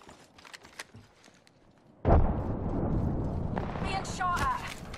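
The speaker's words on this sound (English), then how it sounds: "Grenade deployed." A grenade goes off in a video game: after quiet ambience, one sudden loud blast erupts and trails into a sustained roar of noise that lingers for a few seconds.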